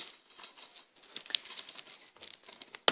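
Plastic case of a Call of Duty 4 PC game CD being opened, with soft crinkling and rustling handling noises and a couple of sharper clicks near the end, fairly quiet and close.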